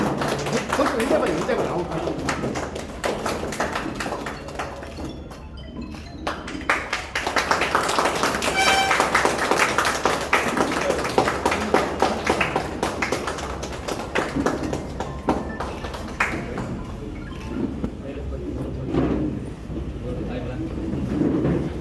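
An audience at the inauguration of a mobile traders' association in Hunsur claps in a long run of dense, scattered applause, with voices speaking over it throughout.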